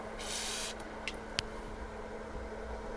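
A short hiss of spray near the start, during acrylic pour painting, followed by a couple of faint clicks over quiet background hiss.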